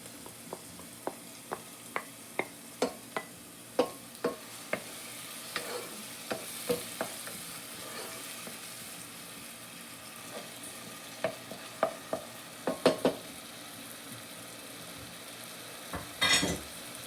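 Tomatoes and lemon zest sizzle softly in a frying pan while a utensil stirs them, giving a run of regular sharp scraping taps over a low steady fry, with a louder clatter near the end.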